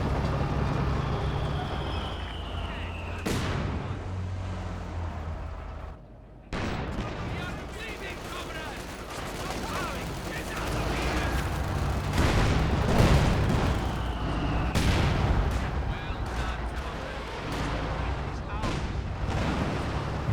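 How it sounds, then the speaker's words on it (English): Katyusha rocket artillery barrage in Company of Heroes 2, with loud rolling volleys of booms and crackling impacts continuing over about twenty seconds, with a brief drop in the middle and battle noise throughout. "Katyusha coming through"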